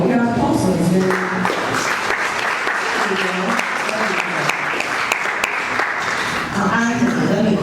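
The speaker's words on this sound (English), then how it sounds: "Round of applause for Benjamin." A symposium audience applauds a speaker with steady, loud clapping from many hands that lasts throughout, while a voice talks faintly over it at moments.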